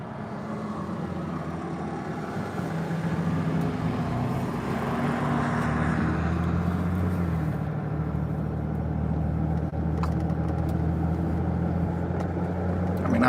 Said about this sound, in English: that way y'all don't have to listen to that diesel truck